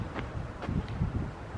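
Steady wind gusts across an outdoor goat farm near the barn and feeder, a low continuous buffeting rumble with soft rustling, alone without voices.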